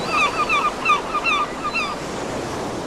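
Ocean waves roll in a steady broadband wash around a sailboat at sea, with a faint breezy hiss and some high seagull-like chirps repeating through the first half.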